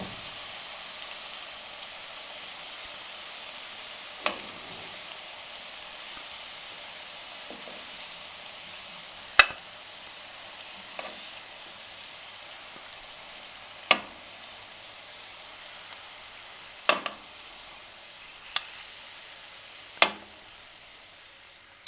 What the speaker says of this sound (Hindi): अब कोफ्ते हमारे अच्छे से फ्राई हो चुके हैं।